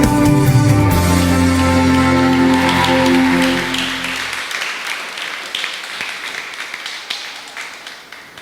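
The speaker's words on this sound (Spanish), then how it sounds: "Recibamos con un fuerte aplauso la palabra de Dios." A church congregation claps for the reading of the word of God, the applause rising over fading organ-like music and then carrying on alone as a loud, steady patter of many hands.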